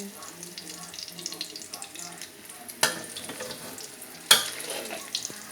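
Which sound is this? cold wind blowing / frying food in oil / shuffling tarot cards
frying food in oil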